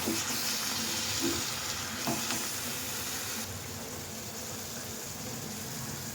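Fenugreek leaves sizzling in a pan as they are turned and stirred, a dense steady frying hiss with soft scraping movements, close and with no voices.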